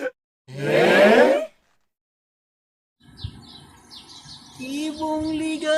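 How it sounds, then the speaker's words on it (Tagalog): Wild birds bathing give a loud burst of chirps, then after a pause a cluster of twittering calls builds up nearby, outdoors with no talk. "Daming ibon naliligo"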